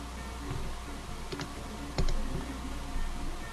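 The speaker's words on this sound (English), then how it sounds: "I open up WordPad, I switch to this file, and I start typing that in" Typing on a computer keyboard, scattered key clicks and taps at an irregular pace, close and fairly quiet over a faint background hum.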